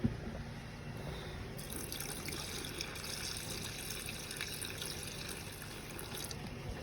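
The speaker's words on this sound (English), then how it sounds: "Gonna pour some down each of the drains, not a lot, just enough to make sure the lines have some antifreeze in them" Antifreeze poured into an RV sink drain while winterizing a Class-B RV gives a steady liquid trickle and splash that runs continuously at a moderate level, with no talking.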